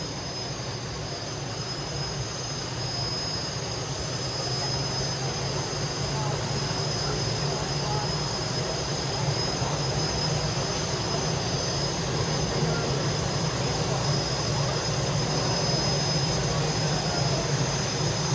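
The T-64 helicopter turbine engine of a pulling tractor at a New York State tractor pull spools up with a continuous loud roar and a steady high whine, and an announcer's voice carries over it.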